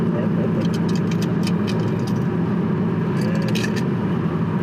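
An Audi S8 engine in sport mode with its exhaust valves open, a loud steady rumble close up for several seconds, with a faint voice briefly audible.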